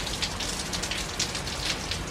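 Steady rain from Hurricane Francine in Algiers, Louisiana, hisses continuously onto surfaces, with faint gusty swells in the wash and no voices.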